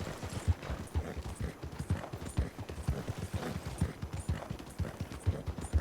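Horse hooves clip-clop in a steady, continuous rhythm throughout Red Dead Redemption 2, close and moderately loud with no talk over them.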